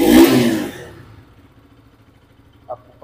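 Bajaj Pulsar RS200 motorcycle engine giving one sharp rev that quickly dies back toward a low idle, loud and close, followed by a couple of faint mechanical clicks.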